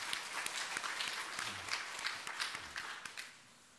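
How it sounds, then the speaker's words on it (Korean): Applause from a church congregation during a Sunday service, congratulating a member's daughter; moderate, steady clapping spread across the room for a few seconds, then tapering off at the end. "우리 축하한다고 박수 한번 하겠습니다"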